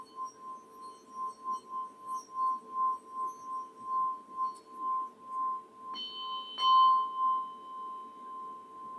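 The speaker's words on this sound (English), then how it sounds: "this is a Tibetan bell" A Tibetan bell rings with a clear metallic tone, pulsing gently as it sustains, with a brighter higher strike toward the end, quiet and close.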